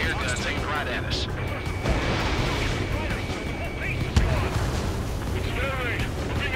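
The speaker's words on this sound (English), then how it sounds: "They got their anti-air guns aimed right at us." Anti-aircraft guns fire in an Ace Combat 7 mission, a rumbling barrage of distant booms with one sharper nearby blast, mixed under radio-style voices and a steady game soundtrack.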